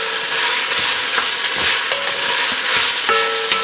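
Diced ham and onion brown in a hot pan with a constant bright sizzle, while a spoon scrapes and stirs in short irregular strokes close by.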